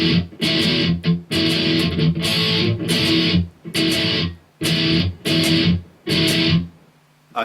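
Distorted electric guitar playing the breakdown of a song, loud chugging power-chord bursts in a stop-start rhythm with short silences between phrases, ending on a ringing note.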